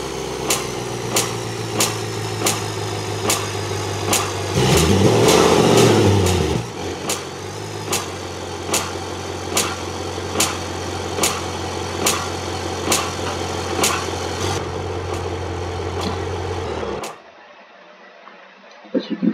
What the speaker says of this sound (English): So the engine sounds a little bit weird,